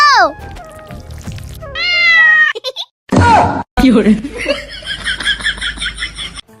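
A cat gives several drawn-out, falling meows, mixed with bursts of human laughter and vocal noises, in a lively indoor scene.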